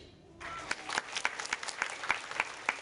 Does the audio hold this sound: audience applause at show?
yes